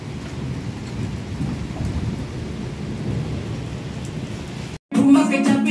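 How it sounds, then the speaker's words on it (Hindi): Steady, heavy rain pours down in a dense continuous roar, then cuts abruptly near the end to a different, louder scene. "इतनी तेज बारिश में।"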